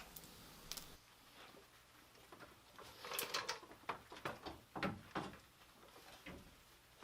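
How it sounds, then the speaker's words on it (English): Screws being removed from the AC condenser on a 350Z radiator: a run of ratcheting, clicking tool bursts that come in quick uneven clusters, fairly close and moderately loud, with no talking. "now we're going to remove the two screws holding the AC condenser to the radiator"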